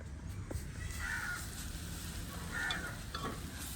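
Chopped garlic sautés in a pan while odiyal flour puttu is prepared, a faint, steady sizzle with a couple of soft stirring scrapes and a distant crow cawing.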